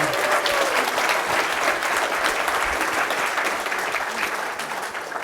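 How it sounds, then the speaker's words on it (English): Applause from an audience at a men's gathering, a dense, sustained round of clapping that fills the room and holds steady before easing slightly at the end. "The guys are clapping for you right now."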